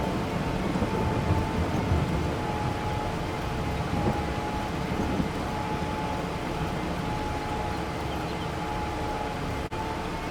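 Steady rain and rolling thunder in Farming Simulator, a continuous dense downpour filling the scene at a constant level with low rumbles throughout.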